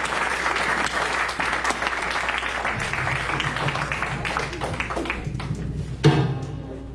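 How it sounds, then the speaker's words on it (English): A church congregation claps hands together during a Sunday service celebration, a dense, steady wash of applause that fills the room and ends with a single louder thump near the close. "Come on, give a hand clap to the Lord for those words."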